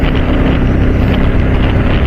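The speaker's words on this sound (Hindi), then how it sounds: "और हवा बहुत तेज है आज" Strong hot wind buffets a motorcycle rider's microphone on an expressway, a loud, continuous low roar with steady gusting rumble and no talking.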